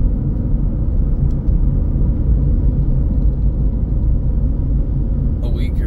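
Toyota Prius driving on a highway, heard from inside the cabin as a steady low road rumble and tire drone, continuous and fairly loud throughout, with someone speaking over it.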